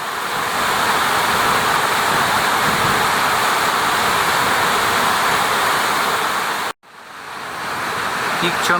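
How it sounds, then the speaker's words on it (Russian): Steady roar of the Belogorka waterfall in the Sokuluk gorge area, broad and continuous, with a brief abrupt cut near the end before the rushing resumes. "Водопад в Белогорке, как раз напротив Кичитора."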